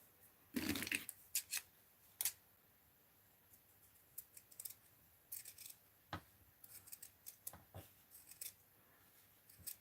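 Scissors snipping paper and scraps while making a transparent journal page, a few sharp cuts in a quick burst, then scattered quieter snips and light paper handling at close range, with no voices.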